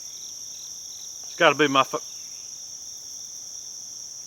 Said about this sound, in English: All kinds of crickets are making noise.